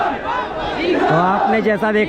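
A crowd of protesters in Lucknow chants slogans demanding a re-exam after a police recruitment paper leak, a dense mass of voices with someone speaking close over it.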